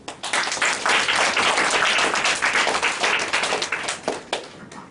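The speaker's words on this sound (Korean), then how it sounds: "박수로 맞아볼게요." Congregation applause welcoming a pastor to the pulpit at a university Christian students' opening worship service: a loud burst of many hands clapping together, thinning into a few separate claps toward the end.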